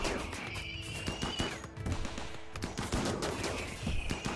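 Gunfire crossfire in the Rimworld colony game, with rapid overlapping shots popping in bursts throughout, a sustained whistling tone above them, and no voices.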